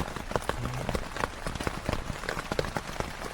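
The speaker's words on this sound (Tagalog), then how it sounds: "umuulan." Steady rain patters on a waterproof camping tent during an early-morning stay on Mt Banoy in Batangas, a dense close hiss with scattered sharper drops striking the fabric throughout.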